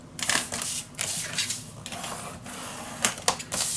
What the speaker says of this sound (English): Then I'm going to turn this and score that at 1/2 inch.